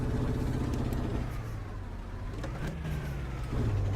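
A Magirus Deutz 182HP truck engine in Euro Truck Simulator 2 pulls a heavy 44-tonne trailer, giving a steady, continuous low drone with a slight rise near the end and no talking.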